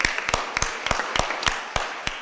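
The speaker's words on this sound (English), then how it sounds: "let's give them a big round of applause and congratulations" Applause in a board of aldermen meeting room, made up of sparse, distinct hand claps, about eight or nine evenly spaced sharp claps with a faint room murmur between them.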